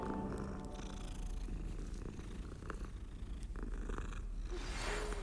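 A cat purrs softly in Hogwarts Legacy as it is petted, a steady, low rumbling purr heard close and faint on its own, with no voices over it.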